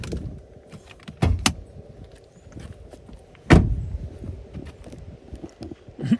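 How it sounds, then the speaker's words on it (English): The bonnet of a 2019 Ford Ranger 3.2 TDCi Wildtrak pickup with a Raptor kit is released and raised on pneumatic struts. Two sharp clunks come close together, then a louder thud, all near and separate against low background noise. "Let's pop the bonnet."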